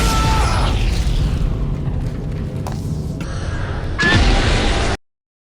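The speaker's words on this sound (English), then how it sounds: "If you decide to stick around, the soldiers will start chucking grenades." Grenade explosions in the Dead Space video game, heavy booming blasts with a loud burst at the start and another near the end, separated by rumbling, decaying noise, then abrupt silence.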